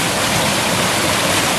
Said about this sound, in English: We've got tons of water shooting through that baby.